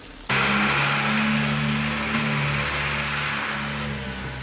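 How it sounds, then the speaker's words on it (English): A lorry engine starts abruptly and revs hard with a steady, droning mid-range roar, staying loud and close before easing slightly as it pulls away. "That sounds like my lorry."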